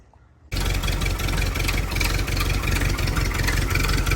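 A 1929 Ford Model A Tudor sedan hot rod engine fires up after a brief quiet moment, then runs steadily at a loud, close, even idle with a low rumbling pulse.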